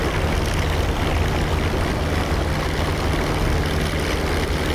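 A Bf 109 fighter engine in DCS roars steadily on takeoff from a short runway, a loud, close, dense drone with a low propeller hum and no gaps.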